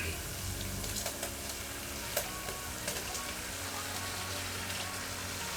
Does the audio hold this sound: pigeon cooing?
no